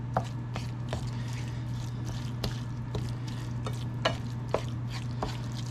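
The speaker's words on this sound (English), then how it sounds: "So we're stirring it in to get it melted." A spoon stirs cheese into freshly cooked hot ground meat for a Doritos casserole, giving steady, repeated scraping strokes with soft wet squishing, close and fairly quiet over a constant low hum.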